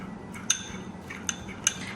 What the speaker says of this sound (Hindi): तब बस हम इसको जल्दी से विस्क कर देंगे to bring to a smooth consistency.